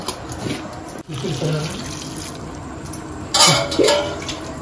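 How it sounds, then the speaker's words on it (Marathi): Tap water runs into a kitchen sink as vegetables are rinsed, a splashing, hissing stream that swells and dips, with clattering handling close by and a brief voice over it. "इकडे आपण भाजी धुवून घेऊ पहिली"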